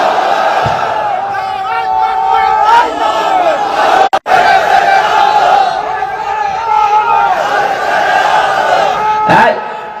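A large gathering answers a takbir call with loud, massed chanting voices, roaring together in sustained waves, briefly cutting off and then swelling again near the end.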